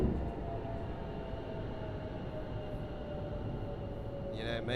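A modded Class 165 diesel train in Train Sim World 5 gives off a steady, even engine drone and rolling rumble throughout, with a short higher tone rising near the end.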